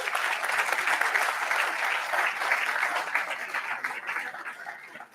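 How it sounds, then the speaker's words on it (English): At an impact investing gala, the audience gives Will Carter a round of applause: a full, steady roar of many hands clapping together, sustained for several seconds and easing off at the very end. "let's give Will Carter a round of applause here"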